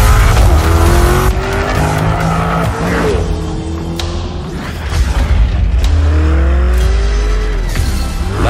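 A Lamborghini Urus super sport utility vehicle roars loudly with sustained engine revs rising and falling, broken by tyre squeals and skids, close and continuous with no talking.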